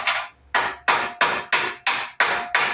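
Hammer tapping a part on a 1948 Willys pickup: seven sharp, evenly spaced metallic strikes about a third of a second apart, each ringing briefly and decaying, close and loud with no talk.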